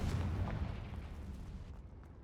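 A Confringo fire spell blasts in Hogwarts Legacy: a quiet, muffled explosive burst with low rumble that slowly dies away.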